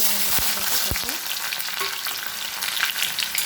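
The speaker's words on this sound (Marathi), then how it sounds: "गॅसच्या आत मोठी ठेवूनच कांदा परतून घ्यायचा" A large chopped onion sizzles in hot oil in a kadhai over a high flame, with a steady frying hiss and a few clinks of a spatula stirring near the start.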